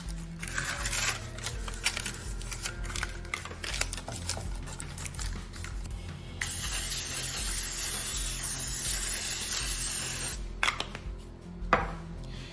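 Cooking spray hissing in a sustained burst over a muffin tin for several seconds, framed by clinks and taps of the metal pan being handled.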